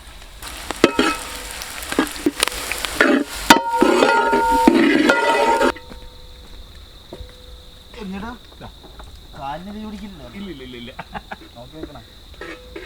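Curry leaves and coconut pieces sizzle and crackle loudly in a hot pan of oil for several seconds, then the frying settles to a quieter steady hiss while a person talks over it.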